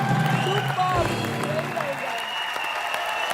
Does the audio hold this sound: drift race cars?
no